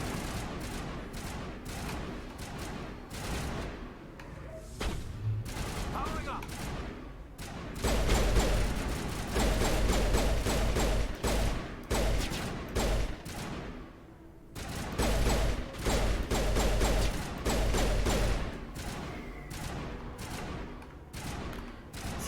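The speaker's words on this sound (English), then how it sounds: "Just keep shooting at him." Sustained gunfire from the video game Mass Effect Legendary Edition, rapid bursts of shots and automatic fire crackling in dense clusters with brief lulls, loud and continuous.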